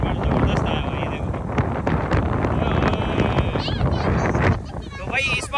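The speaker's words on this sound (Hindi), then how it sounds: "हवा बहुत तेज है भाई" Strong wind buffets the microphone outdoors at a cow market in Karachi, a loud, continuous rumbling roar with voices talking over it.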